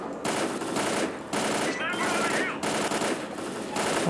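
Rapid bursts of AK rifle fire in a STALKER Clear Sky firefight, loud and close, several sustained volleys separated by brief pauses.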